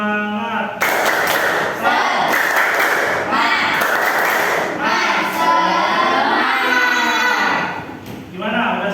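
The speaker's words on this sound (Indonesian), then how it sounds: "kita sama-sama tepuk semangat ya, biar lebih semangat dan lebih seru" A class of students performs a rhythmic spirit-clapping routine in unison, loud close bursts of patterned clapping mixed with children chanting along, ending with a short pause and voices.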